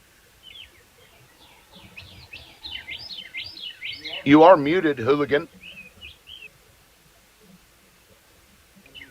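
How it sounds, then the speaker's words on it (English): Birds chirp and trill outdoors in Mississippi, a string of high tweets across several seconds, briefly covered midway by someone talking. "And do you hear these birds?"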